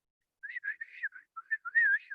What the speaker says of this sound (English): He got out a whistle.